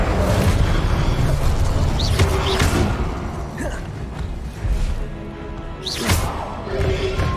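Incendio fire spell cast in Hogwarts Legacy, heard as dense, loud whooshing bursts and booms with several sharp swells across a constant roar of game combat.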